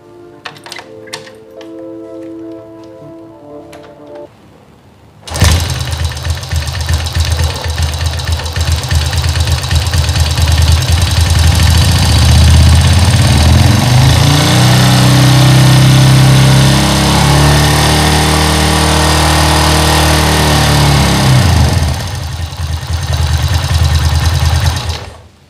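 A motorcycle engine with an oil pump that fails to build pressure is started after a few mechanical clicks, then idles loudly and steadily up close with a busy rattling, ticking mechanical clatter for the rest of the clip.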